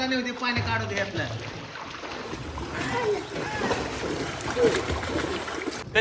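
Water splashing and sloshing as someone swims in a well, with choppy bursts of movement close by under voices talking.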